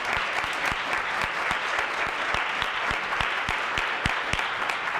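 Applause at a city council listening session in a city hall, honoring city staff and police, with crisp individual claps distinct within a steady crowd clapping, moderately loud and close, no voices.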